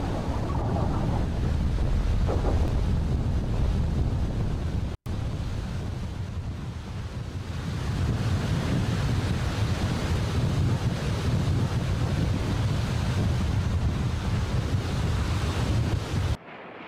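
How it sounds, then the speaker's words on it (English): Ocean surf washing along a coastline, from an animation of tsunami water, a steady broad roar of waves with wind noise that runs continuously at close range, broken by one brief dropout. "Rapidly receding water like this on the coast could be an indication of an impending tsunami."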